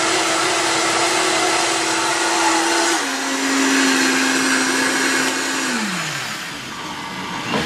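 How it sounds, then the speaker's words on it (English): A blender whirs loudly and steadily while blending a herbal tonic drink, its motor pitch holding level, dropping slightly partway through, then winding down near the end with no voices. "So we're going to blend it first and then add the stevia at the very end."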